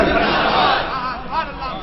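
Conference crowd shouting Takbir religious slogans in unison, a brief, loud collective chant with a second burst rising near the end.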